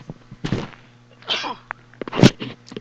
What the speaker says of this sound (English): I tried to cover up the mic. Had to sneeze.